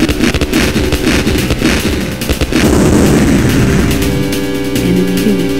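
Enemy units blowing up in the strategy game Dune 2, a loud, continuous barrage of overlapping booms and crackling blasts that thickens into a heavy rumble toward the end.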